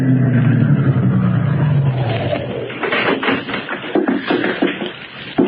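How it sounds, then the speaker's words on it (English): A big limousine drives up in an audio-drama sound effect, its engine rumbling close and then easing off, followed by shuffling, knocking movement sounds as it comes to a stop. "a big car drove up to the only entrance"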